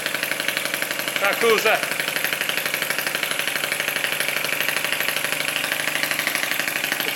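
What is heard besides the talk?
Lister D model engine running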